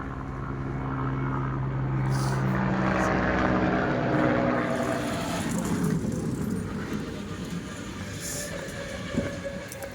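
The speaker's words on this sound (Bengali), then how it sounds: "হেলিকপ্টার" A loud, droning helicopter rotor rumble from the direction of Barrackpore swells and passes close overhead at a riverside bathing spot, then fades slightly while staying steady in the background.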